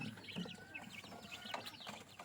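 Backyard chickens cluck in a busy overlapping chatter, near and fairly faint, with short clucks repeating irregularly and no talk.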